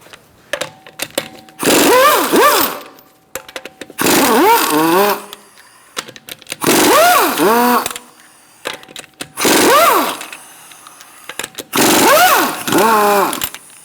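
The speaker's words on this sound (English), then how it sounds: "Using a 19mm socket, we're going to remove our lug nuts." Pneumatic impact wrench with a 19mm socket zipping lug nuts off a front wheel of a 2013-2022 Buick Encore, five loud whirring bursts of about two seconds each with short pauses between.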